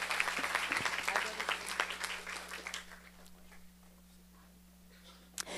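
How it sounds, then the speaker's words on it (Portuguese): Audience applause at a Brazilian parliamentary front session on autism defense, a dense burst of clapping that fades over the first three seconds to quiet room tone with a steady hum, ending with a single sharp knock. "Palmas para vocês"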